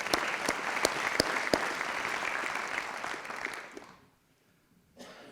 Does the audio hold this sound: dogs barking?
no